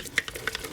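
A fermented hot sauce in a jar being stirred, giving a couple of quick close clinks and scrapes of a utensil against the glass within a brief moment.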